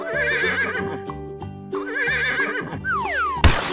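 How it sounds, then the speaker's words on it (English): A horse neighs in a clear whinny over a bouncy children's music bed, followed by a rising cartoon swoop and a short burst of noise at the end. "Horse."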